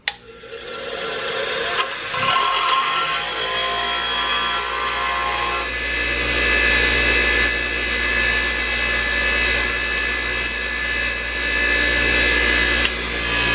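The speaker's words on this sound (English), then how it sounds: "I'm just going to use the grinder." Angle grinder cutting through the soft metal handle of a screen or storm door, a loud, continuous abrasive whine and grinding rasp that runs nearly unbroken, shifting in pitch partway through as the cut progresses.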